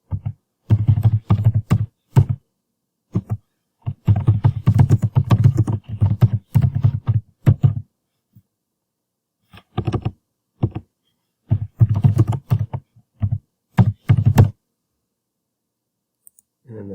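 Rapid keystrokes clatter on a computer keyboard in close, loud bursts of typing separated by short pauses, some clicks louder and more isolated, with no speech.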